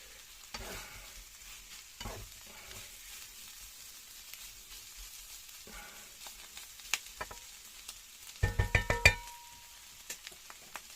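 Potatoes frying in a steel non-stick pan with a honeycomb-pattern coating, a soft steady sizzle broken by scraping stirs and a burst of clattering near the end, with no voices.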